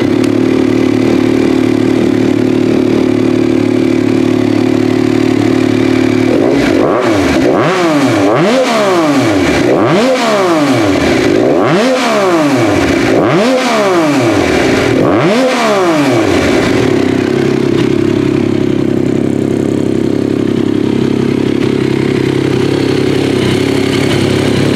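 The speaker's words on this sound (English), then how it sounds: "that's the Black Widow full system with my whole shot 14-inch street muffler on it" A 2021+ Yamaha MT-09 flashed to its most aggressive mode, with a Black Widow full exhaust and Whole Shot 14-inch street muffler, idles loudly and then snaps through about five sharp revs in quick succession before settling back to a steady idle.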